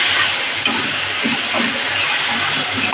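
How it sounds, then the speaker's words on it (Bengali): Peeled whole hog plums (amra) being stir-fried in a pan for a Bengali dish, giving a steady, close sizzling hiss with a few soft stirring scrapes scattered through. "আমড়াটা দিয়ে এবার কষাবো।"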